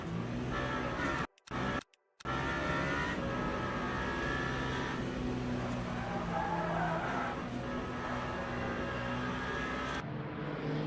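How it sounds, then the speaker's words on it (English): A prototype race car in the Le Mans Ultimate racing game, on the Fuji circuit in a WEC online championship race, oversteers with a steady, loud engine drone and tire skid noise, broken by two brief dropouts. "Proper oversteer moment."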